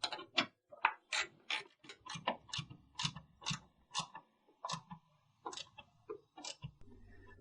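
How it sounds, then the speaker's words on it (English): An ADARAC truck bed rack rail is tightened down with a quick series of sharp, close metallic clicks and ticks in uneven bursts, quiet overall with brief pauses between them. "you're ready to tighten the rail down"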